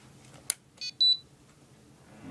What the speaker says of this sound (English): Here's the controller it does when it starts up.